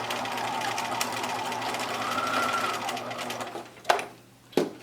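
Sewing machine back-stitching the seam of a fabric mask, a fast continuous mechanical whir close by that stops, then two short bursts of stitching follow.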